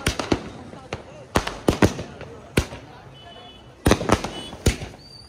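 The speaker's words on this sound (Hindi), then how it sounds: "छुपके पटाखे फोड़ रहे हैं यहाँ पे" Firecrackers crack and pop in irregular bursts, some singly and some in quick clusters, sharp and fairly close, with voices in the background.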